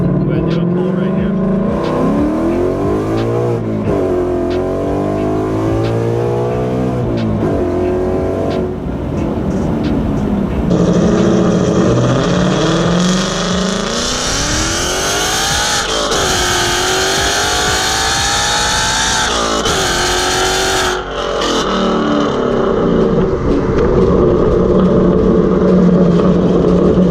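A 2019 Mustang GT V8 with long tube headers and Solo Performance exhaust pulls hard through the gears from the cabin, a loud rising engine roar with several upshifts and rev drops, a voice talking briefly over it.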